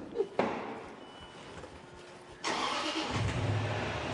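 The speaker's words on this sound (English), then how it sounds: "you just step in and just turn the engine on for us" A new car's engine is started and settles into a steady, moderately loud idle, preceded by a couple of brief knocks and quiet background hum.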